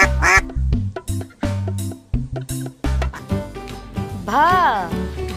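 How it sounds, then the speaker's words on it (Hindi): Duck quacking in a children's Hindi alphabet phonics song, a few short quacks near the end after sung and spoken syllables over a bouncy musical backing. "ब से बतख"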